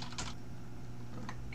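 Computer keyboard typing during a remote SSH session setup, a few short bursts of keystrokes close to the mic over a steady low hum, with no voices.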